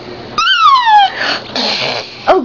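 A young girl imitates a horse with a high, falling whinny-like squeal, followed by breathy sounds and a short final squeak.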